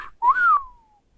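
A person tries to whistle, producing one short breathy whistled note that rises then slides slowly downward and fades, with a brief voiced sound just before it.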